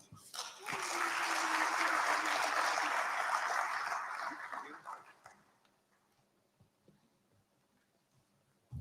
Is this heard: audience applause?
yes